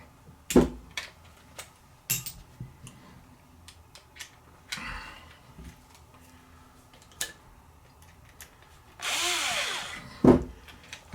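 A power drill with torque adjustment driving screws on a buggy build: scattered clicks and taps, then one short whirring burst that rises in pitch near the end, close and otherwise quiet.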